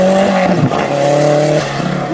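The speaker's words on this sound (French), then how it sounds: "il envoie la GT." A GT car is pushed hard on a stage of the Rallye du Trièves historic (VHC) rally, its engine screaming loudly and close by, pitch dipping briefly at a gear change before climbing again.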